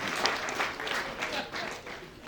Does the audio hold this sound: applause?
yes